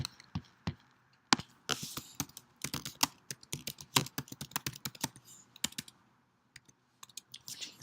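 Typing on a computer keyboard at a desk while designing a poster, a busy run of sharp, close key clicks in quick irregular bursts with brief pauses and a louder rapid flurry near the end.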